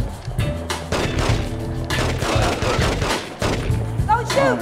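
Gunfire from The Getaway video game, dense and repeated across the clip, with game music and effects underneath, ending in a final loud burst.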